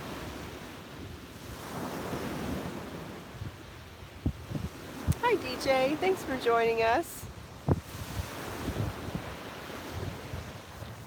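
Atlantic Ocean surf and wind on South Beach, Miami Beach, at sunrise: a steady roar of waves and gusty wind buffeting the microphone, with a voice speaking briefly partway through.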